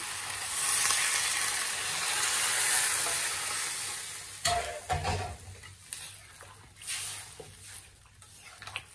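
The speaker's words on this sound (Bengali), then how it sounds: "এই যে মরিচটা সুন্দরভাবে কষানো হয়ে গেছে। এই যে পরিমাণ মতো ঝোল দিয়ে দিলাম।" Chili paste sizzles steadily as it is sautéed in a pan. Broth is then added, and the hiss gives way to quieter bubbling, stirring and scraping.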